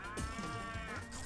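A cartoon-style cow moos once in the video game Pizza Tower, a short, loud, nasal bellow that bends downward in pitch over about a second.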